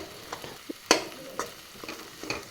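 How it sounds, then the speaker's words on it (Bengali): A spoon scrapes and stirs drumstick flower chorchori in a pan: a handful of separate strokes and taps over a faint frying hiss, close and fairly clear. "এইভাবে আমি কিন্তু বেশ মাখা মাখা করে সজনে ফুলের চচড়িটা রান্না করে নিলাম"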